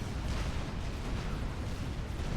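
Artillery in a Supreme Commander battle gives dense, muffled rumbling booms that blur into a steady, fairly faint low roar of distant bombardment throughout.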